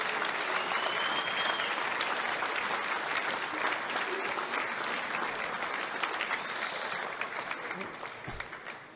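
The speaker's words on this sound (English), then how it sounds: "round of applause." Dinner guests at an annual old boys' dinner break into sustained applause, a dense, roomy clatter of many hands that holds for several seconds before tapering off near the end.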